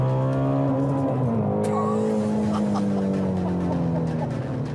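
A powerful car engine roars and its exhaust booms inside a road tunnel at night, a loud sustained drone with a rising and falling pitch as revs climb and ease, echoing close by.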